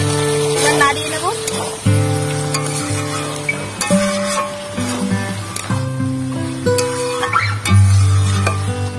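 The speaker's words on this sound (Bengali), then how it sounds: "নাড়িয়ে নেব।" Green jackfruit curry with garam masala is stirred in a pan, with a low simmering bubble and irregular spoon scrapes and knocks close by, while someone talks over it.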